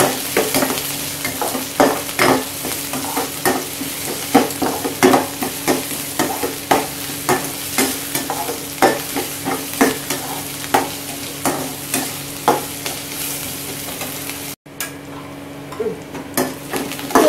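Onions sautéing in a pan over medium heat for dal tadka, a constant sizzle punctuated by rhythmic spatula scrapes and taps about every half second, close and loud, briefly cutting out near the end; no voices.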